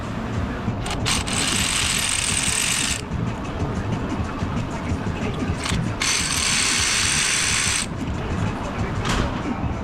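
A ratchet works on the ignition coils of a 2008-2016 Mercedes-Benz C300, giving loud, fast, close clicking in long bursts with brief pauses between them.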